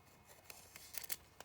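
Scissors cut through nail transfer foil in a few soft, quick snips, faint and close, with no talking.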